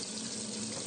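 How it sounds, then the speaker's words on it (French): A kitchen tap runs with a steady, close hiss of flowing water, unbroken and fairly faint, with no voices over it. "Mais dès qu'on ouvre le robinet,"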